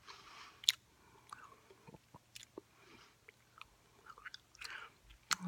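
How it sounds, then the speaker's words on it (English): Fast gum chewing, close and quiet, with small wet smacks and clicks in an uneven quick rhythm, a few sharper pops standing out over a low steady hum. "But this is mostly chewing gum."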